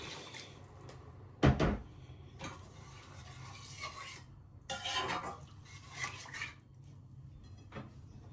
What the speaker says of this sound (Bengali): এই যে দিয়ে দিলাম জল গরম জল দিয়ে দিলাম